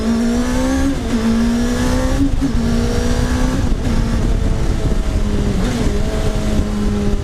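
A car powered by a Suzuki GSXR1000 superbike engine accelerates hard in second gear, its high-revving engine note loud, close and continuous, rising in pitch with brief dips between shifts and no talk over it.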